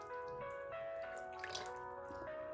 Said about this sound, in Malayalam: നമുക്ക് തൈര് ഇതിലേക്ക് ഒഴിച്ചു കൊടുക്കാം